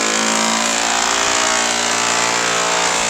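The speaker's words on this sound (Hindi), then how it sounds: "मशीन से ड्रिल हो रहा है, इस नाते आवाज आ रही है ऊपर से।" Machine drilling overhead on an upper floor, a loud continuous whining drone with steady harmonic tones, unbroken throughout and close.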